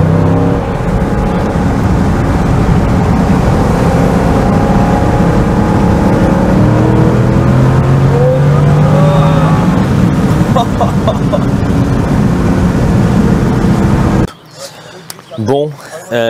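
A Dodge Challenger SRT 392 V8 roars loudly and continuously from inside the car, its engine note rising through accelerations while the wheels spin. Excited voices talk over it before the engine noise drops away near the end.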